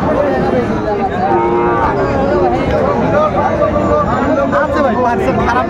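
A Sahiwal bull moos repeatedly at a busy cattle market, its low calls close and loud over a steady crowd hubbub and nearby chatter.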